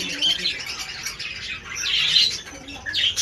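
A young lutino budgerigar chick, not yet fed, calls repeatedly in high, raspy squawks and chirps, close by, in short bursts with brief gaps between them.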